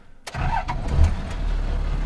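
A four-wheel-drive car's engine cranks and catches in the Simpson Desert, a sharp start followed by a steady low idle rumble, close and loud with no talking.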